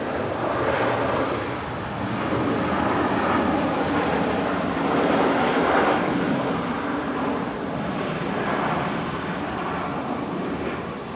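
Boeing 737-700 arriving at Brisbane International Airport from Perth, a broad steady jet roar that swells in the middle and eases off, heard from a distance with no voices.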